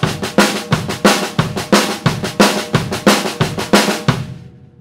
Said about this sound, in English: Number two is what I call a broken ride train beat.